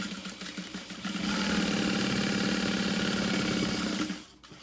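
A sewing machine stitches through a vinyl tote bag in one continuous run of close, steady mechanical chatter that builds up, holds, then stops.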